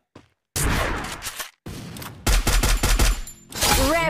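Gunfire in a ranked solo-versus-squad battle royale match rattles out in close, loud volleys, with sharp rapid shot clusters and brief silent gaps between them.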